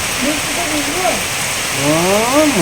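Steady rain falls as a dense, even hiss on surfaces, running throughout beneath people talking nearby.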